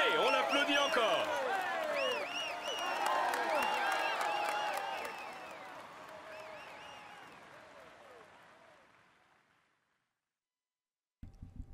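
Crowd applause with scattered cheers at a Tour de France 2016 stage podium, loud at first, then gradually fading away to silence near the end, followed by a brief burst of sound.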